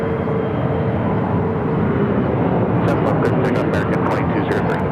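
A jet airliner roars down runway 7 left at Phoenix airport on takeoff, a loud, steady broadband engine rumble filling the clip, with brief clicking static bursts toward the end.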